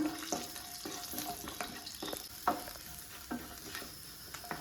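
Fifteen whole, uncut garlic cloves fry in oil for chicken varavu, a steady close sizzle broken by a few sharp scrapes and clatters of stirring, with no voices.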